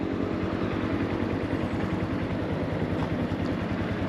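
Honda motorcycles pass on a road on a day with lots of bikes out, making a continuous droning engine rumble with a steady throbbing pulse that stays loud throughout.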